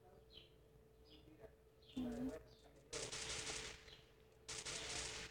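Two rapid bursts of automatic gunfire crackle from Free Fire, set against quieter chirping tones and a faint background hum.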